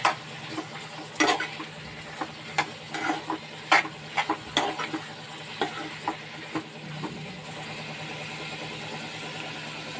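Capsicum and egg curry being stirred in a frying pan, irregular close scraping and clinking stirs over a steady low sizzle.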